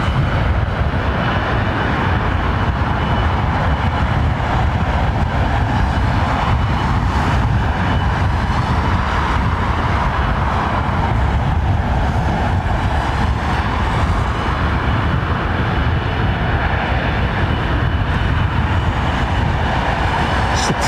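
A Boeing 777 at London Heathrow Airport gives a loud, steady, broadband engine roar that holds without a break, with no voices heard.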